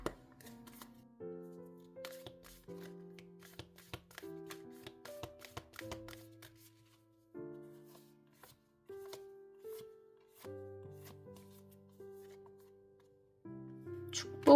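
Oracle cards being shuffled by hand in quick soft riffling bursts, repeated in short runs with brief pauses, close and quiet, while gentle background music plays.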